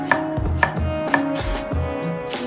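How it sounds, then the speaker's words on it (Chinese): A kitchen knife chops red chili into strips on a board, a series of sharp, evenly spaced taps about half a second apart, close and clear with background music. "切点红椒丝"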